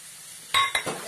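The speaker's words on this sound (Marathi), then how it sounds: "चांगलं फ्राय करून घेऊया." Golden onion frying in a pan with turmeric and coriander powder: a quiet low sizzle, then a couple of sharp clinks and scrapes of a spoon stirring over about a second.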